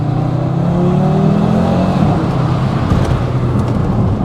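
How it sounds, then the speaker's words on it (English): An Audi RS3 8V saloon with a 400 bhp engine revs loudly at close range, its engine note climbing and then dropping back into a rough, throbbing exhaust rumble with no talk over it. "you drop a gear, it over revs, and then you hear it crackling and popping"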